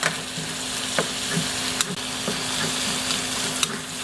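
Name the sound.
garlic frying in a pan for chicken adobo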